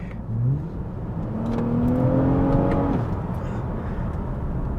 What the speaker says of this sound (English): I wish the car was a little bit louder